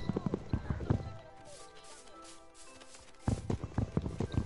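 Horse hooves clip-clop in a video game, rapid bursts of hoofbeats at the start and end with a quieter gap between, close and fairly loud.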